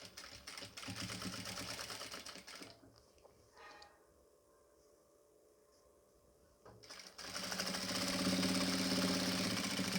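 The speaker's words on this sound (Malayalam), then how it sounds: "എന്നിട്ട് തയ്ച്ചു കൊടുക്കുകയാണ് കേട്ടോ." A sewing machine stitches nighty fabric with a steady, close whirring rattle that stops briefly mid-way, then resumes louder and faster.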